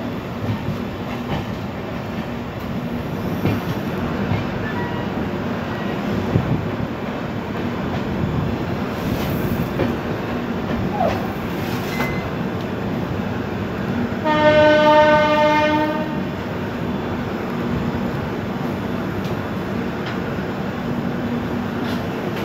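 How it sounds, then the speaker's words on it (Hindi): Local passenger train on the Pune–Daund–Solapur line rumbling steadily along the tracks, with a loud multi-tone horn blast sounding midway, fairly close and without talk. "पुणे दौंड सोलापुर ये है अपनी लोकल ट्रेन"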